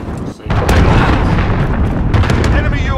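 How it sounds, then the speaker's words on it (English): Loud, dense run of booming blasts and rumbling detonations from a cruise missile strike in Call of Duty: Modern Warfare, team deathmatch in the Azhir Cave, continuous after a brief gap with sharp bursts layered through. "Cruise missile incoming!"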